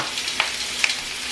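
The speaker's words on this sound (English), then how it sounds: "Love that sizzle sound of it." Chicken sizzles steadily in a hot frying pan, a continuous crackling hiss with two brief sharper pops.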